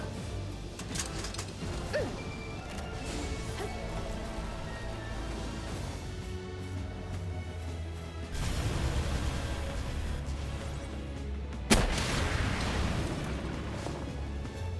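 A gun fires in the game Palworld: two heavy, booming blasts stand out over a continuous rumbling game soundscape, with no one speaking.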